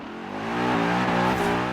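A Mercedes-AMG GT engine in the racing game Forza Horizon 4 revs up and holds a loud, steady harmonic drone, building in pitch then sustaining close and alone.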